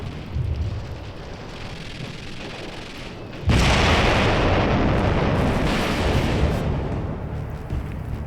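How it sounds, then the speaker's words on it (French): A soldier's explosive charge detonates on the artillery turrets of Fort Eben-Emael during the Second World War: a loud, sudden blast that erupts after a low rumble and rolls on as a sustained roaring boom with debris. "Un soldat audacieux se hisse sur le toit des tourelles d'artillerie avec sa charge d'explosifs."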